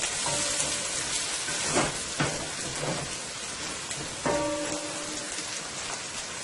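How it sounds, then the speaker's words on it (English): Bitter gourd (karaila) frying in oil, giving a steady close crackling sizzle with scattered louder pops and spatters throughout, no talking. "Let it fry and marinate into the oil for about a minute or 2."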